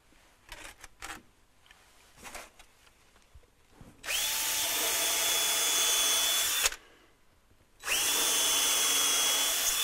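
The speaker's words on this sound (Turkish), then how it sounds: "Şimdi kıl testeresiyle oyma yapacağımız yerleri matkap ile deleceğiz." A power drill bores holes through a wood workpiece to prepare it for fretsaw carving. After a few seconds of quiet handling noises, the drill whines loudly in two sustained bursts separated by a short pause.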